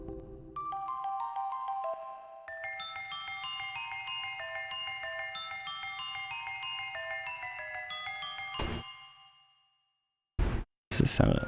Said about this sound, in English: So that's why we went with kalimba.